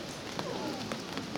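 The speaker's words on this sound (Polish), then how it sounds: "Witamy dzisiaj w strugach deszczu, ale mamy nadzieję, że ten deszcz ustanie" Heavy rain pours at an outdoor church festival in Przeczyca, making a dense, even hiss with scattered sharper drop impacts, while a voice is faintly audible beneath.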